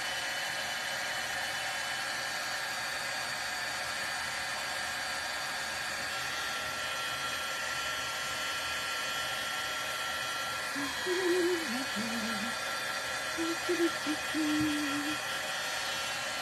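A heat embossing tool blows a steady, faint whirring hum over an embossed card, running continuously while a voice speaks softly near the end.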